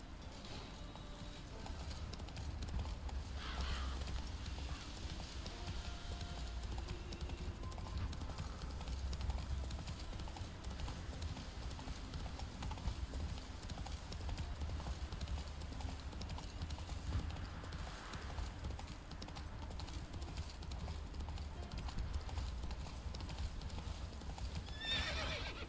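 In The Witcher 3: Wild Hunt, a horse gallops with a steady, rapid clip-clop of hooves throughout, a whinny breaking through along the way, under a low ambient game rumble.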